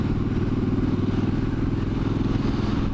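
A Triumph Street Cup motorcycle with a 2-to-1 exhaust runs with a steady, throbbing engine note, close and rhythmic, its low pulsing beat holding constant as it rides along twisty roads.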